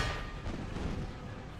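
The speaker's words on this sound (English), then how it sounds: "I get possibly some cannon shots going that way?" A dense, rumbling boom of cannon fire in a video game, Empire 2, with a rolling, noisy tail, loud and close, no voices.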